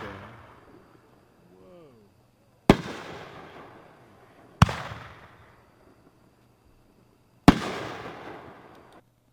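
Ghost Show firework cake shots bursting as three sharp, loud bangs spaced a couple of seconds apart, each trailing off in a crackling, fading decay.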